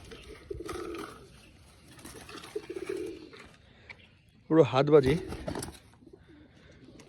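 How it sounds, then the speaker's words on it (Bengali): Two caged performing tumbler pigeons coo softly, with a louder burst of cooing near the end, while someone talks over most of the sound. "পায়রা দুটোকে আমি ধরে খাঁচায় ঢুকিয়ে রেখেছি"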